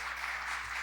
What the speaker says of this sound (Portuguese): Uma salva de palmas para vocês.